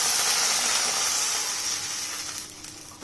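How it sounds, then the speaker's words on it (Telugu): Water is poured into a hot pan on the stove, giving a loud, steady hiss of sizzle and steam that eases off and fades near the end. "ఒక చెంబు నీళ్ళు పోసుకోవాలి"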